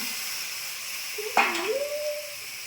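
Cabbage and potato frying for a vegetarian cabbage ghonto, a steady soft sizzle with a sharper burst and a stirring scrape midway, close by, with no talking.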